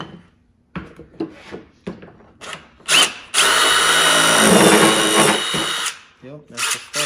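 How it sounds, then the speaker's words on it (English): A power drill with a step drill bit whines steadily for a few seconds through a pickup truck bed, loud and close, with short bursts of handling noise and brief starts before and after the main run. "We're gonna use a step drill bit."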